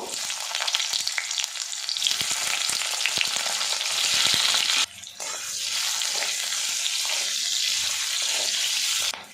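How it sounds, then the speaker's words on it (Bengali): Boiled potatoes fry in very hot oil with a loud, continuous crackling sizzle up close. It breaks off abruptly at the midpoint, then carries on slightly softer. "তেলটা কিন্তু বেশ গরম হয়ে গেছে, তেলের মধ্যে দিয়ে আলুগুলো আমি ফ্রাই করে নেব"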